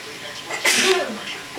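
A single sharp sneeze bursts out close by, short and forceful, set against a quiet indoor background.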